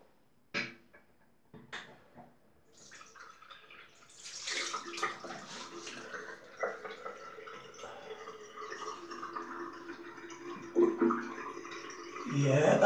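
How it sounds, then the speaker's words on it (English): Cold water splashes and runs at a bathroom sink as a face is rinsed after a straight razor shave, faint at first, then building into irregular splashing and dripping that grows louder toward the end. "So I'll just rinse my face with some cold."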